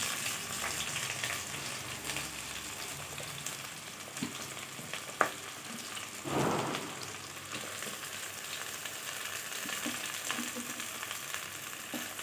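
Garlic cloves and two large sliced onions frying in a pan for coconut milk rice, a faint, even hiss of sizzling with a few soft stirs and one sharp tap.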